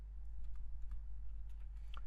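Typing on a computer keyboard while entering code, soft scattered keystrokes tapping at an uneven pace over a low steady hum, quiet and close with no talking.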